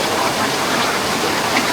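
A waterfall at Calape, Bohol roars as a dense, loud, unbroken rush of falling water, close by and heard alone with no voices.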